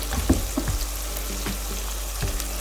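Ginger garlic paste, cloves and curry leaves frying in a pan with tomato for devilled chicken, a steady sizzle under a low hum, with a few soft stirring knocks near the start and end.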